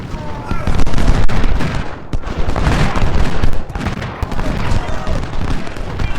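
Artillery cannons firing in a Battle of Shiloh video game: a loud, dense barrage of booms and crackling gunfire that runs without a break through the whole stretch.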